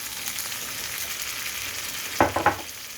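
Marinated chicken liver frying in a pan gives a steady close sizzle, with two quick clattering stirs near the end and no talking.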